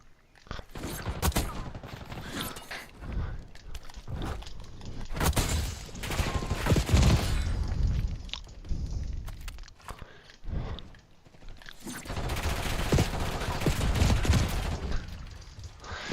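Gunfire erupts in a video game in bursts of rapid shots and heavy volleys, loud and close, separated by brief lulls.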